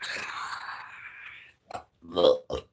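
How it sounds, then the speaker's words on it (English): A single drawn-out burp from a person, lasting about a second and a half, is followed by a few short, faint mouth sounds or breaths. "You burped."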